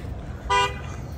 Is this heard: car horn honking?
yes